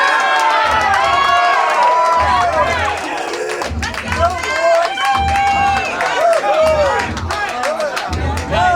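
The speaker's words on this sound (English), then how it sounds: "Let's cheer them on." Crowd cheering, clapping and shouting at a cheesesteak eating contest, loud and steady throughout with voices calling out over the noise.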